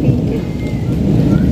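Heavy night rain with thunder hisses steadily with a low, rolling rumble beneath it, continuous and close, with no voices.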